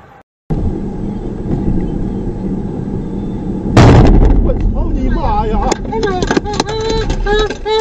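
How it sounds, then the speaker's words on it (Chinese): A gas explosion in a residential building sounds as one sudden loud, broadband boom partway through, above steady background rumble, followed by agitated voices shouting and talking close by. "燃气爆炸吧，从头上面放爆出来的"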